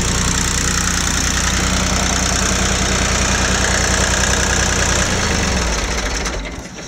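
A Ford 1710 tractor engine runs loud and close with a steady, knocking diesel chug, then cuts off abruptly near the end.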